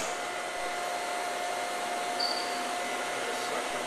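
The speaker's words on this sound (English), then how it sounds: "I'm going to turn the machine on." Hansvedt DS-22 wire EDM machine running steadily, a loud constant hum and hiss with a sustained tone, no talk.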